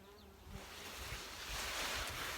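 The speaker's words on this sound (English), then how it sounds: "Bees everywhere." Bees forage across a sunflower field in August, a faint, diffuse buzzing mixed with soft outdoor wash and breezy noise, with no talking.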